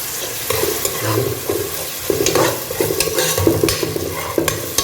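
Garlic paste for Ambur mutton biryani fries loudly in a pot, stirred with repeated scraping strokes over a continuous close sizzle and no voices.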